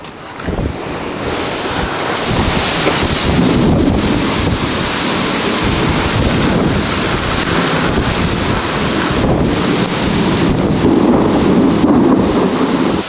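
Tornado storm wind rushing loudly through an opened front door of a house, a steady, roaring blast with rain noise and no voices.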